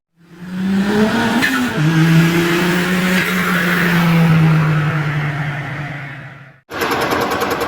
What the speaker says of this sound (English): we've got the Alpha on the milling machine here